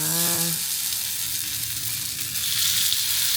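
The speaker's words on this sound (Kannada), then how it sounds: "Fish fry. ಯಾವ ಫಿಶ್ ಇದು? ಇದು ಬೂತಾಯಿ" Bothai fish sizzles in hot oil in a pan, a loud, steady hiss of frying up close, with a brief tonal clink or voice-like hum near the start.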